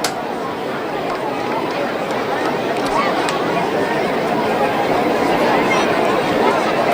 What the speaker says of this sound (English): a decent crowd here at Howard Wood Field